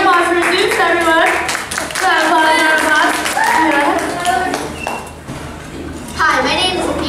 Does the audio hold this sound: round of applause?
yes